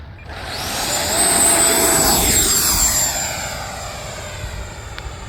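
An RC model jet, an FMS BAE Hawk 80mm, whines loudly as it passes overhead, the pitch sweeping down in a clear doppler shift before fading to a steady distant roar.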